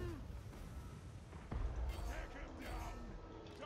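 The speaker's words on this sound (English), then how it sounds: "And dropping bomb." In Total War: Warhammer, a dropped bomb lands with a low explosive boom and rumbling aftermath amid distant battle noise, with someone talking over the game sounds.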